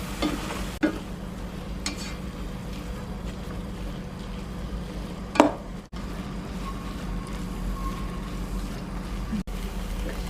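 Carrots and celery stir-fry in a pan with a low steady sizzle, punctuated by a few scraping stirs and a sharp clink, continuous and close.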